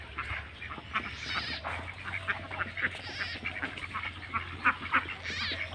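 Khaki Campbell ducks on a small farm, resting in the sun after their morning feed, give off repeated quacks and calls of varying strength over a steady low hum, with no talk.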